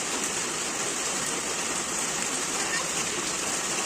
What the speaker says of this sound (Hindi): तो जिस समय बारिश स्टार्ट हुई थी उसमें तेज हो रही थी, अभी थोड़ा कम गया है ना।